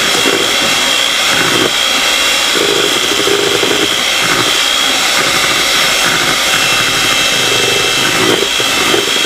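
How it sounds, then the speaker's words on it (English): An electric hand mixer beats vanilla cake batter with vegetable oil in a home kitchen, giving a loud, close, steady motor whir with faint rhythmic swishes and no talking. "Then I'm going to keep going with the electric hand mixer."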